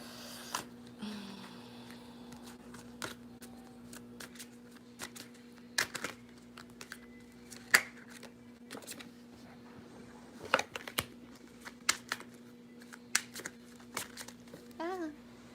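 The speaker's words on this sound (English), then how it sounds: "Let me shuffle your cards, Em." Tarot cards are shuffled and handled, with crisp intermittent slaps and riffles spread over a quiet background hum.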